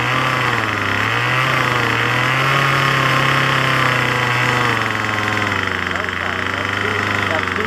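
Craftsman string trimmer engine running at half throttle during carburetor tuning, a continuous buzzing drone with slight pitch wavers, close and loud throughout.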